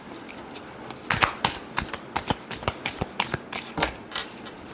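Tarot cards being shuffled for a love reading, a quick run of crisp riffling slaps and flutters repeating in bursts, close and fairly quiet with no talk.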